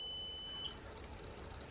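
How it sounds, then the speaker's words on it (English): A single steady electronic beep from a QUCC battery management system signaling over-voltage rings for about half a second, then stops, leaving a faint hum. "At least it's beeping."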